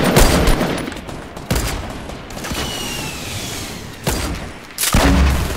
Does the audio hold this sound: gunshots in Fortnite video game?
yes